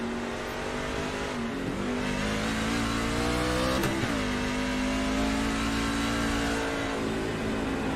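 A race truck engine on track revs up through the gears at nearly 130 mph, loud and continuous from start to finish, its pitch climbing and dropping at each shift.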